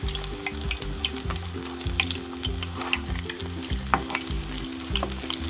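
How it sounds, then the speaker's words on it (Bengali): A potato cheese pancake fries in a pan, giving a close, steady sizzle and crackle with scattered pops and spatula scraping, no voices. "এই সাইডটা পরে আমি 4 থেকে 5 মিনিট ভাজলাম"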